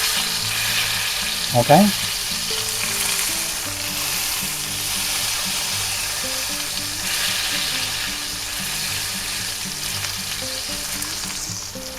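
A salmon fillet sizzles and fries steadily in a hot pan, a constant bright crackle close by, with a brief clatter and a person speaking softly once.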